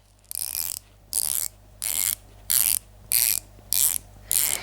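Watch bezel turned by hand in short bursts, seven quick runs of light, crisp ratcheting clicks separated by brief pauses, close and quiet with no talking.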